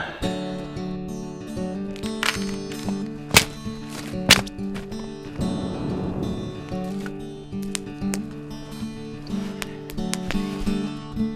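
Firewood is split by hand at a snowy winter camp, with a few sharp, separate thwacks and thunks of a blade striking wood over a steady background of music.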